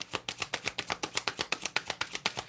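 Tarot cards are shuffled close up in quick, even riffles, roughly a dozen crisp flicks and slaps in steady rhythm, with no voices.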